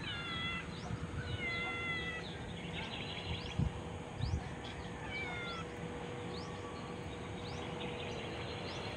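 Repeated short cat meows, several of them, fairly faint against a steady outdoor background hum, with a couple of soft thumps partway through.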